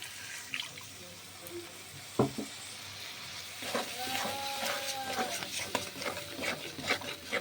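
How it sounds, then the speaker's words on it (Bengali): Water is poured into spice paste frying in a wok, a brief splash followed by louder bubbling and sizzling, with stirring and a few clatters, heard up close. "তাই জন্য আমি একটু জল দেবো।"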